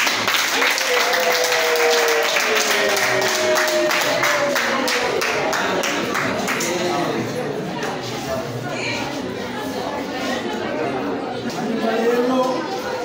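Wedding guests at GS Gisozi in Gasabo, Kigali, clap together in a sustained round of applause, mixed with crowd chatter and voices, holding steady for the full stretch.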